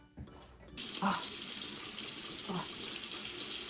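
A bathroom tap is turned on and water runs steadily into the sink while a face is rinsed, the flow loud and close with soft splashing bursts as hands scoop water.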